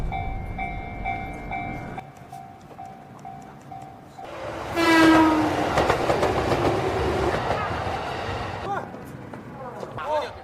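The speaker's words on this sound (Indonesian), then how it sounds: "jalur rel kereta api yang sedang akan lewat" A train horn sounds in steady blasts, then a train rushes past with heavy rumbling, screeching wheels and rhythmic clatter.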